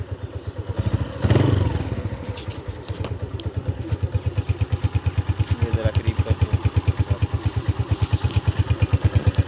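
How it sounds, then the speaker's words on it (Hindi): Honda CB125F motorcycle engine idles close by with a steady, even thumping pulse, after a brief clatter near the start. "ये इसकी आइडल पे साउंड है CB125F की।"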